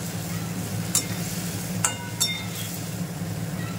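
Ground spice paste of coriander, cumin, chilli and turmeric with salt is stir-fried in oil for a light fish curry with vegetables, giving a steady low sizzle with a few sharp clinks of a spoon against the pan.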